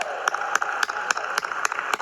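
An audience applauds WWII Merchant Marine veterans at a Congressional Gold Medal commemoration. The clapping is moderately loud and steady, with sharp individual claps standing out at a regular pace over a dense patter.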